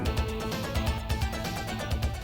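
Upbeat FM-synth video game music from the Neo Geo title Soccer Brawl plays as a short pre-match ditty, dense and continuous with a bouncy bass rhythm.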